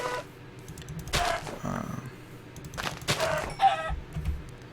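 Minecraft chickens cluck in a few short bursts, spaced apart, under the clatter of a computer keyboard being typed on.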